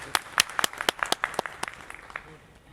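Scattered hand claps come from an audience at a speech, loud at first and then thinning into a quicker patter that fades out toward the end.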